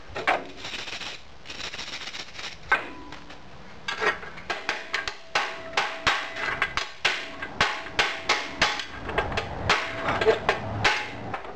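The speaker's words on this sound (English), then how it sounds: "Did you see how many times I had to hit it with the hammer to break that wedge test?" A hammer strikes a cast iron wedge test bar again and again, sharp metallic blows coming faster and louder in an uneven rhythm until the casting breaks.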